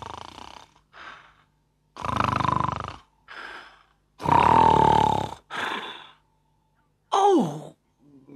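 Mrs. Bear's snoring in a children's story tape is voiced by a person imitating it, with several rough, breathy snorts and grunts in separate bursts and brief silences between them, close and clear.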